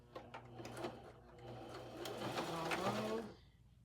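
Sewing machine stitching at close range, a fast rhythmic mechanical whirr and needle clatter that builds and speeds up before stopping abruptly, with some faint background sounds.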